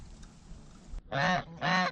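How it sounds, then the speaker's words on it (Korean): A goose gives two loud, nasal honks in quick succession, close by, after a second of quiet background. "거위토리가 뭔가를 발견했다고 소리를 질러서"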